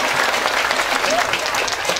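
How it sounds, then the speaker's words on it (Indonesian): A mosque congregation in Cikarang claps for the Berhamus Bekasi group, a dense, loud, continuous wash of applause with a voice faintly present underneath. "Sekali lagi tepuk tangan buat Berhamus Bekasi"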